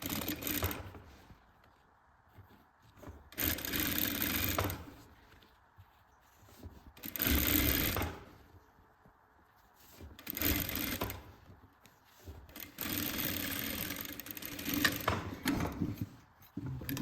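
A sewing machine stitches trouser pieces together in several bursts of rapid, close whirring, separated by short quiet pauses.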